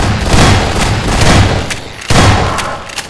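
Gunfire in the Half-Life 2 video game: rapid, loud bursts of shots with booming thuds, one heavy blast partway through, dense and continuous at close range.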